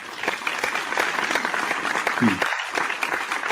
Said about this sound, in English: we got to give her a little round of applause for that